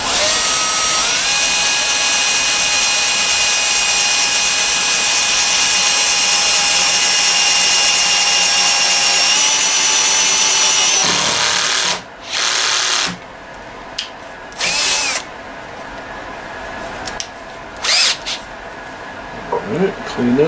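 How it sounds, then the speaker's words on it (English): Power drill boring a hole through a wooden dowel rod, a loud, continuous high whine that grinds steadily for about twelve seconds, then stops and gives way to several short bursts of the drill, close by. "get me a hole drilled through my dowel rod."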